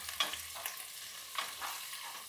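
Jackfruit pieces for a dum biryani frying in a pan and being stirred, a soft steady sizzle with a few light scraping strokes of the spoon, close by and fairly quiet.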